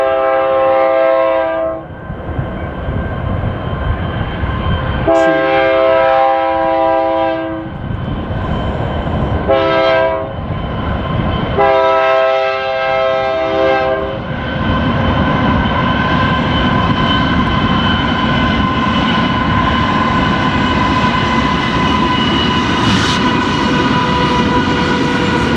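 Several loud train horn blasts sound in separate bursts, then a fast, mile-long train roars past continuously down a grade, its rumble and rushing noise building toward the end.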